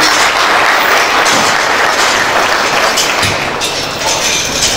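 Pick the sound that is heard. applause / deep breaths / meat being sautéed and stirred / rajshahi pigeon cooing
applause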